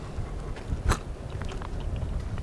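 Biting into home-fried chips cooked in oil over a fire, with a single sharp crunch near the middle followed by quieter chewing, close to the mic.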